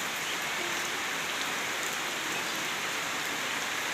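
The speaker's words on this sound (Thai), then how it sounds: "ฝนตกกกไม้ก็ช่วมชื่นเขียวงามเลยพี่น้อง" Heavy rain pours at a rural home in Thailand, a steady, even hiss of drops on surfaces that runs without a break, fairly soft and with no voices.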